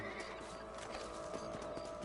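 Horse hooves clip-clopping with a whinny in the Western video game Red Dead Redemption, quiet rhythmic hoof steps under ambient game sound.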